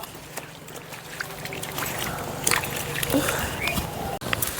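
Cut raw mango pieces for pickle are washed in water, with steady sloshing, splashing and trickling close by and a few clinks of the pieces being handled.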